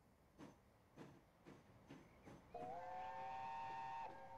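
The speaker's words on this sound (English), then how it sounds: "Whistles in the background." Train whistles in Transport Fever: a faint rhythmic rumble of passing rail traffic, then a sustained steam-style whistle blows steadily for about a second and a half before cutting off.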